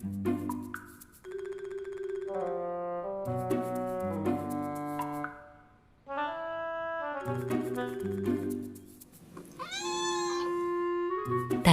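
A sociable, outgoing tomcat that roams outdoors gives a long run of close, drawn-out meows and wavering yowls, some rising and falling, with a short gap in the middle and no people speaking.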